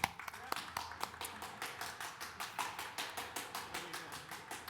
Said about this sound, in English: let's give another round of applause for Avid Penguin